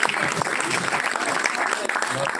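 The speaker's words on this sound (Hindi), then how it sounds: "एक बार और जोरदार तालियों की गड़गड़ाहट सुनना चाहूंगी।" Loud, dense audience applause at a cultural performance event, steady clapping from a large crowd throughout, close and continuous with a few voices mixed in.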